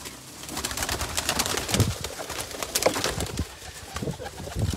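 Taddy pigeons coo softly in low repeated calls, close by, with occasional rustling and wing sounds against a busy background and no talking.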